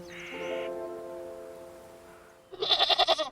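A goat bleats in the video game Wytchwood, a loud wavering cry near the end that follows a sustained tonal game sound heard on its own.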